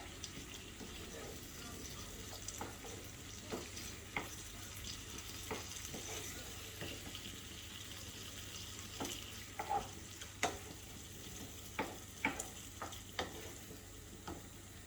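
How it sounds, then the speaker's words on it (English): Pasta being stirred in a hot pan of pork, spinach and cheese sauce over raised heat, with a steady soft sizzle and scattered scraping clicks of the utensil against the pan, close by. "And you stir as well."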